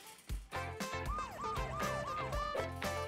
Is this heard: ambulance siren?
yes